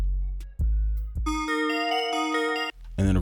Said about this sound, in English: first we're gonna start with our bell, and I'll just turn everything off as we go